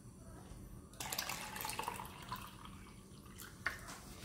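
Water poured steadily into a container in a home kitchen, a soft continuous trickle beginning abruptly and running quietly for several seconds, no talking.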